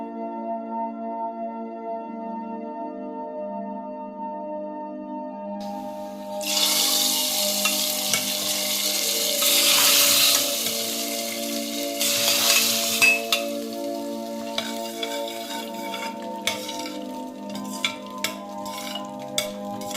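Potato fry cooking in a pan, starting from quiet background hum and then bursting into a loud, close sizzle with repeated ladle scrapes and clinks as it is stirred, bubbling hiss continuing throughout.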